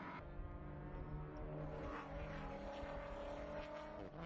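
Race car on the track at Utah Motorsports Campus during the 2024 NASA Championships, Super Touring 2 class, with a steady loud engine drone holding a sustained pitch throughout.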